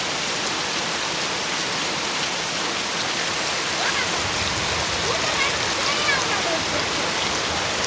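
A heavy downpour beside a roadside market makes a loud, steady, even hiss that fills the whole stretch without pause.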